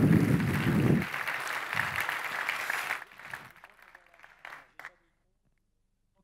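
Conference audience applauds in a brief burst that thins out after a few seconds and fades to silence, with scattered claps trailing off near the end.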